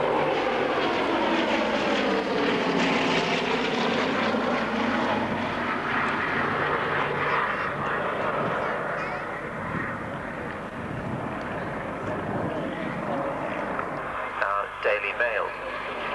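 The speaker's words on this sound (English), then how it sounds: "unique airplane, the Bristol Blenheim." Bristol Blenheim airplane engines drone loudly at the 1999 Enniskillen air show. The sustained roar shifts in pitch as the aircraft passes, then fades a little toward the end.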